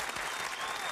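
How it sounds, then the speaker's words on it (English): A brief burst of dense audience applause, many hands clapping at once, loud and continuous. "Give them a round of applause."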